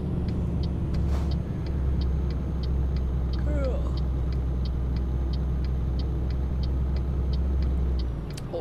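A heavily loaded truck drives in Euro Truck Simulator 2, a steady low engine drone with a regular ticking indicator over it and brief tonal chirps partway through.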